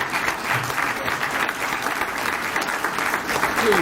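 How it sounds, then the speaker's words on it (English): Audience at a Tuskegee University hall of fame ceremony gives a standing ovation, steady dense applause filling the room throughout with a faint cheer or two, no speech over it. "let's give him a round of applause for all that he is doing"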